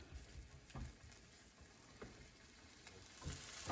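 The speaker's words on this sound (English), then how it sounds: "let that heat up and start sizzling a little bit" Soft, steady sizzling of food frying in a pan, with faint crackles and a few brief stirring or scraping sounds, close by.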